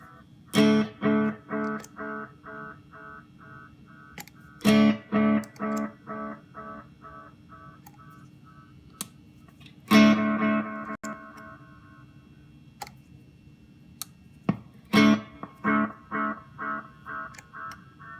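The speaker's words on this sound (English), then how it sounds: "So turning it back now to the single speed delay." Single-speed delay from a Mystery Multiplex pedal: short plucked guitar phrases repeat in evenly spaced, steadily decaying echoes, with clear gaps between the phrase groups and no talking.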